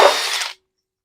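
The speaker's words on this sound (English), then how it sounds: "I don't mind throwing a little wire wheel on the old drill." Short burst of a wire wheel spinning on a power drill against metal, a harsh bright grinding whir lasting about half a second before cutting off abruptly into silence.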